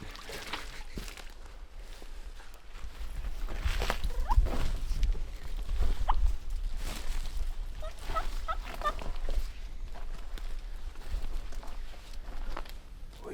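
Distant wild turkey gobbles from about 450 yards away down a creek break through a quiet outdoor scene, along with soft footsteps and rustling close by.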